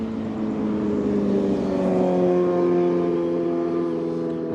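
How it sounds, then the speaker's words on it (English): A loud motorcycle engine roars past outdoors in Los Angeles, a steady, droning rumble with a slowly shifting pitch that fills the whole stretch, with no talking. "that motorcycle was really loud"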